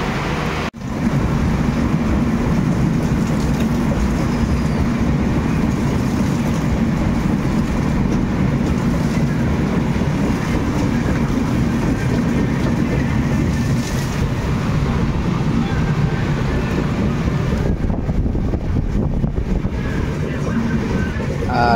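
Coromandel Express train heard from inside an AC coach while running, a loud steady rumble with wind-like roar throughout, and no talk.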